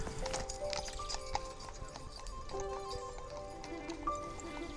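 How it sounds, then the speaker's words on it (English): Horse pulling a jaunting car on the Dingle Peninsula, Ireland, hooves clip-clopping at a steady walking pace, with a whinny and distant outdoor murmur in the background. "This must be the jaunting car rides, or horse and buggy rides"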